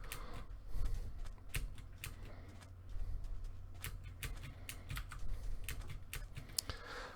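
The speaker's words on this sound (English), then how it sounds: "This is why I'm typing this." Keys clack on a computer keyboard in irregular bursts of close, crisp keystrokes with short gaps between, over a low steady background hum and no speech.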